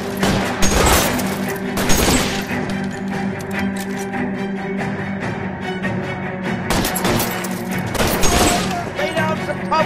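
Shootout gunfire in LA Noire, with dense overlapping shots and heavier booms repeating in waves over a steady background din, under shouted voices.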